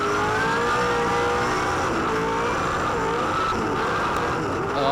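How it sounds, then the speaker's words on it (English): A 2007 V8 Supercar at the start of a race at Phillip Island revs loudly with a slipping clutch, its engine whining and wavering over the steady roar of the other race cars. "Oh, you can hear that clutch slipping."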